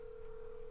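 A telephone line during a call being placed gives a single steady electronic tone, held unbroken at an even level for under a second with no voices over it.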